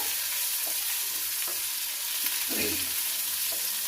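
Onions sizzle and fry in hot oil for a mint chutney, a steady broadband hiss with occasional stirring scrapes and crackles, close and continuous with no talking.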